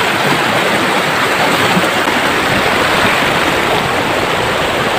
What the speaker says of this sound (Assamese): ইমান ধুনীয়াকৈ পানী বৈ আছে